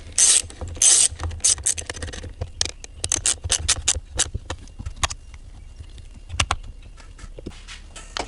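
Hand ratchet clicking in quick bursts while tightening motor mount bolts on a Dodge Dart with a 2.0L or 2.4L engine, close and loud with short pauses between runs of clicks.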